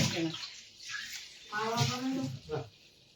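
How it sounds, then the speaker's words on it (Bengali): Running water splashes while a bowl is washed under it, a steady close wash broken by short splashy bursts, with people talking over it. "বাটিটা ধুয়ে দাও"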